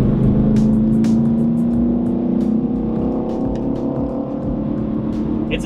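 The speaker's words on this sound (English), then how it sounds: "It's a CTSV and a Mustang GT." A Cadillac CTS-V and a Mustang GT street race, their loud engines roaring and droning steadily at close range, with rising and shifting engine tones throughout.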